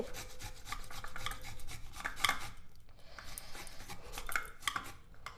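Half a raw potato rubbed back and forth across a metal grater for a homemade face pack, a steady rasping scrape with short pauses and a few bright clinks against the grater, close and fairly loud.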